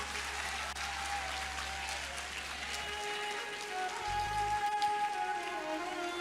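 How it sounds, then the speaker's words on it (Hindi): A large audience of students at a motivational session for JEE/NEET aspirants claps loudly and continuously, a dense sustained wash of applause with a low hum beneath. "बच्चों एक बार जोरदार तालियां बजा दो,"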